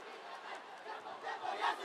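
A dance crew's group cheer at the Super 24 2024 open category finals in Singapore, a burst of massed voices shouting together from a crowded hall, steady and fairly loud for under two seconds with a rising peak near the end.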